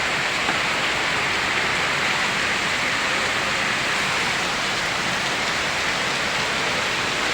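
Torrential rain from Typhoon Carina in Santa Mesa, a constant hissing downpour drumming on surfaces close by, loud and unbroken for the whole stretch, with nobody talking.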